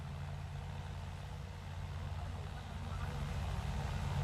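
A New Holland 3630 tractor engine pulls uphill, a steady low diesel drone holding constant and rising slightly toward the end, close and continuous.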